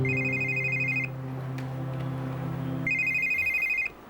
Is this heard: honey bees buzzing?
no